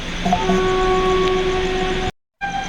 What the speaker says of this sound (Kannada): ಸೊ ವಂದೇ ಭಾರತ್ ಎಕ್ಸ್ಪ್ರೆಸ್ಸೇ ಹತ್ರದಲ್ಲೇ ಪಾಸ್ ಹತ್ತು ಅನಿಸುತ್ತೆ ಈಗ